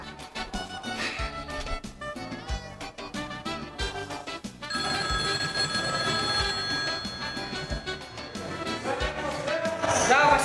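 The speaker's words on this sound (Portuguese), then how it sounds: "Vou já ligar pra Zé Brita pra saber onde é que Zé Brita tá" A telephone rings on an outgoing call, a steady repeating ring tone that runs for several seconds and grows louder near the end, with background music underneath and no talk.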